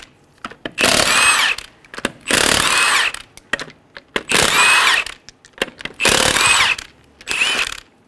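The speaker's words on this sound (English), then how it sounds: "Using a 19 millimeter socket," Five loud bursts of a power impact tool spinning off the lug nuts with a 19 mm socket on a 2003-2008 Honda Pilot front wheel, each about a second long with brief clicks and pauses between them.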